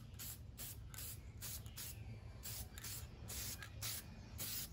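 Aerosol spray paint hisses steadily in short and long bursts close by as Honda Z50R engine parts are coated, with a low background hum underneath.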